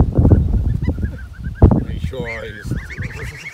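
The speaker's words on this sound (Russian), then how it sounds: "На лугу пасутся гуси." Geese honking on a village meadow, a few harsh calls mixed among other birds, mostly beneath someone talking close by.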